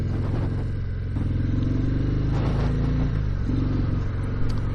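2019 Harley-Davidson FXDR ridden through a neighborhood, its engine rumbling loud and steady up close with small throttle swells and no talk.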